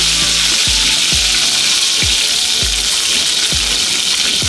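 Mustard seeds, cumin and curry leaves sizzle loudly in hot oil for an onion palya, with a dense, steady crackle and occasional low thumps and pops throughout.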